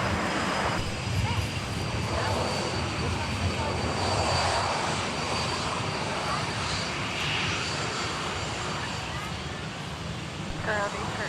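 An American Airlines jet runs its engines at Minneapolis–Saint Paul airport, a steady distant roar and whine held throughout, with radio talk mixed in.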